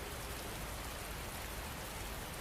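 Steady rain falls in an even, dense hiss with no breaks or distinct drops standing out, quiet and unchanging throughout.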